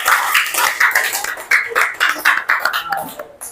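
A school class claps together in a rhythmic group pattern, sharp bursts of hand claps in repeated beats, close and loud in a classroom.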